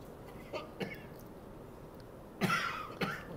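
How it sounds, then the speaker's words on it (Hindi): A patient coughs on request during a hernia examination: a couple of brief, soft coughs early, then two louder, closer coughs near the end, in a quiet room. "खांसी करें"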